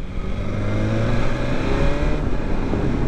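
A BMW S1000XR motorcycle accelerates with a loud, close engine drone that shifts pitch through quick-shifter gear changes over steady wind noise.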